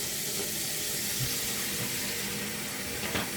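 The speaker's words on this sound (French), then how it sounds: "mettre de l'eau dedans" Water pours steadily from a tap into a container in a kitchen, a constant close splashing hiss with a faint clink near the end, and no talking over it.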